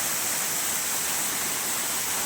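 A waterfall drops about 30 feet on the road to Kalasapadi near Harur, giving a steady, dense roar of falling water with no voices over it.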